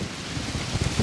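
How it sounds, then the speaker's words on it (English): Steady rain falls outdoors in a park in Tortola, British Virgin Islands, a dense even hiss with a few heavier patters near the end and no voices. "the rain has started again"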